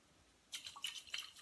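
Water drains and splashes in quick drips and pours from a jar of sprouts being rinsed. It arrives as a few brief, close bursts after a quiet start.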